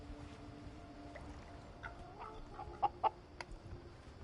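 Chickens clucking on a farm in the game Surviving the Aftermath, a few short faint clucks over a low steady background hum, with two louder calls near the end.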